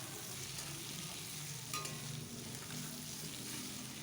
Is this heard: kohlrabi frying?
yes